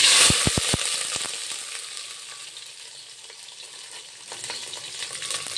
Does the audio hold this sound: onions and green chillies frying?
yes